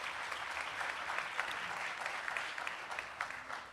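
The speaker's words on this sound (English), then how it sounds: "Let's give a round of applause for Danielle Simpson." Sustained audience applause fills a room at a faculty and staff awards ceremony, dense steady clapping from a crowd heard alone without talk.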